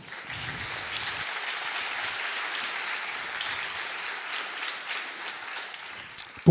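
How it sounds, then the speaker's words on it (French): Audience applauding at a cybersecurity women's awards event, the jury's favourite prize, a steady dense wash of many hands clapping throughout, with a couple of sharper claps near the end. "Sous vos applaudissements, bien sûr."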